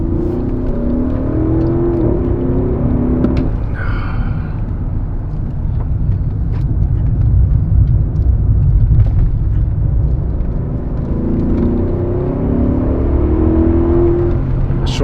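An ABT-tuned 650 PS Audi SQ8 pulls away hard from a traffic light, its engine a steady, loud low rumble that builds and holds throughout, heard from inside the cabin with no talking.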